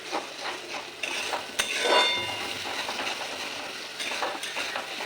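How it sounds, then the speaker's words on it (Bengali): Prawn malai curry stirred in a frying pan, with a steady sizzle under repeated scraping and clinking strokes of a spatula against the pan, close and clear, with no voices. "একটু নাড়িয়ে নেবো।"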